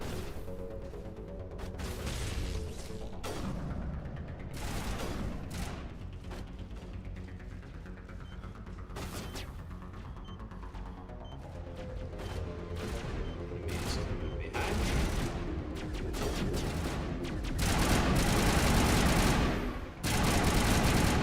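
Assault rifle fire in the video game Mass Effect 1 comes in repeated sharp bursts, loud and close, spread across the stretch with short pauses between volleys and no speech.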